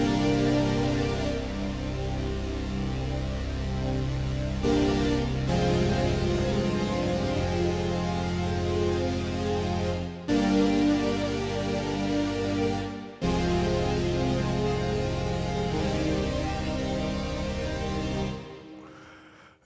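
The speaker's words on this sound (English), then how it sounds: "Now let's go to the organ." A sustained organ patch from a DRC software synthesizer plays held chords that change every few seconds, with brief breaks between them, steady and full, and then fades out at the end.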